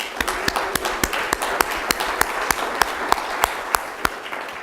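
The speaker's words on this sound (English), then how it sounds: "How about a round of applause for each and every one of you out there" Applause from an audience of healthcare workers at a talk on substance use disorder: sparse, evenly paced claps, sharp and close, keeping a steady rhythm throughout.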